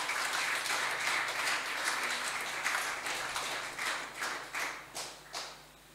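Church congregation applauding during a worship service, sustained dense clapping from many hands that thins toward the end into scattered claps, heard at a moderate distance without speech.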